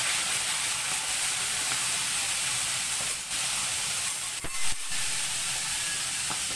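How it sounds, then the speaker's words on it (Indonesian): Salted scad fish fries in a pan with a loud, continuous broadband sizzle and hiss that holds steady throughout, with no talking. "Kita goreng ikan masin kita ya."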